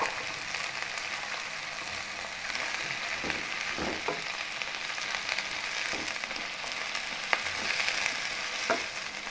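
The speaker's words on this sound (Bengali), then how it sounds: "এটাকেও কিন্তু আমি খুব ভালো করে ভেজে নেব" Onion, chili and freshly added washed vegetables fry in a pan while cooking pasta, a steady close sizzle with occasional stirring scrapes and clicks throughout, no voices.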